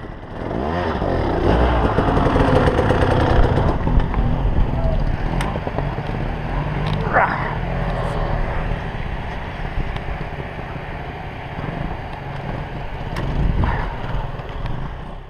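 A dirt bike engine labours up a steep trail climb during an extreme adventure ride, a loud, steady off-road motor drone running through the whole stretch with slight swells in throttle.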